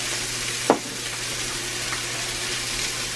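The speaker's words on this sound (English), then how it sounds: "Yeah, listen to that sizzle." Beef sizzles steadily in a hot cast iron skillet, a constant crackling hiss with one brief sharp tap near the start, no voices.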